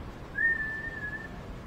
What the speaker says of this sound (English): Daddy says, whistle.